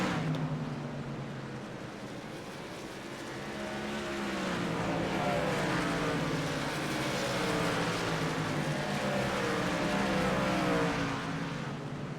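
Race trucks in a racing video game drone steadily past in traffic, a continuous layered engine roar with shifting pitch that swells slightly midway and holds at moderate level.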